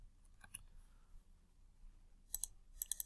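A computer mouse clicks while Autodesk Inventor is used, with a few sharp, close clicks early and then a quick run of crisp clicks near the end, over a quiet background.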